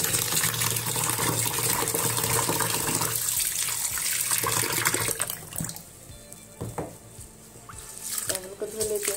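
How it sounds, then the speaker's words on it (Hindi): Village rice is rinsed under water running hard into a kitchen sink, a steady loud splashing rush that gives way to quieter trickles and clinks of grains and a pot near the end. "चावल को धो लेती हूँ जल्दी जल्दी"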